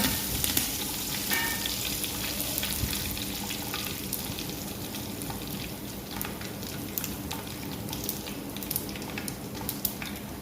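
Mustard, fenugreek and cumin seeds hitting hot oil for tempering, a steady close sizzle and crackle that continues without pause, with no talking.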